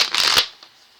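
Tarot cards are shuffled in one quick, close riffle of fast papery flutters that ends abruptly, followed by a faint tap and near silence.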